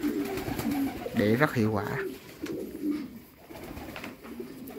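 Giant runt pigeons coo on a farm, a close, loud rolling coo in the middle with softer coos around it, while someone speaks Vietnamese over the flock.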